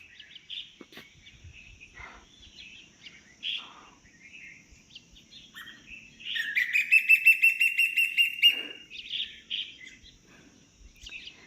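Birds call outdoors inside an old fort, with scattered short chirps and tweets, then a louder, sustained, buzzy call lasting about two seconds, fairly near and heard without talk.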